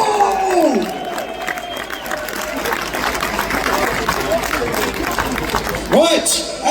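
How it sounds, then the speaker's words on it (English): A crowd at an outdoor protest march and speeches in Manchester claps and cheers for a speaker. The noise is loud and constant over wind and background rumble, with voices and a shout rising and falling through it. "let's give another round of applause for the nationalist superstar, John Ball!"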